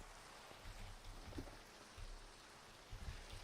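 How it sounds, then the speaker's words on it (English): Steady rain falls in the Minecraft video game, a soft continuous hiss with faint patters running throughout, fairly quiet and with no voices over it. "It's been raining a long time."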